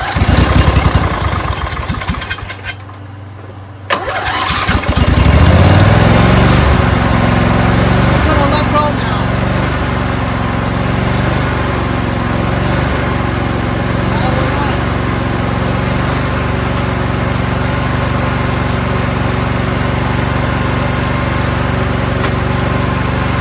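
A Craftsman LT1000 lawn tractor engine cuts out briefly, then starts and settles into a loud, steady running drone close by for the rest of the stretch.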